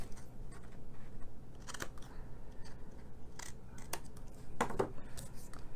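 Scissors snip paper flaps for holiday treat boxes, a few crisp cuts with soft rustling and a low background hum, no speech.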